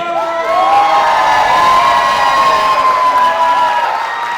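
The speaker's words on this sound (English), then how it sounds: "You guys are cheering the same amount for everybody." A gala audience cheers loudly and steadily for a dance team, sustained whoops and shouting voices blending with some applause throughout.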